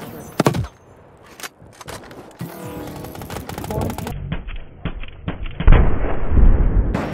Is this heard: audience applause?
no